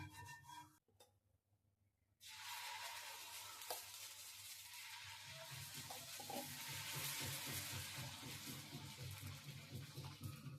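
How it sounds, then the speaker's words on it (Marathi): Green moong chilla batter hits a hot, oiled griddle and starts sizzling loudly after a brief quiet stretch, then holds a steady, close frying hiss to the end with no talking. "तव्याला आपण थोडं आधी खाली तेल लावून घेऊया आणि मग त्याच्यावरती धिरडं घालूया"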